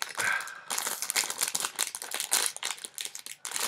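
A crinkly foil blind bag packet of Power Rangers Super Samurai mini figures is torn open, giving close, continuous crackling and crumpling rustles for a few seconds with no talking.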